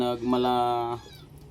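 A cat meows with a drawn-out, whiny call indoors inside a house, loud and close, fading into quieter room sound after about a second.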